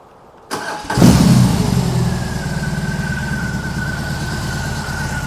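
A BMW R18 motorcycle cranks and fires up, a short starter whir followed by the big boxer engine catching with a loud roar that settles into a steady, throbbing idle, close and alone.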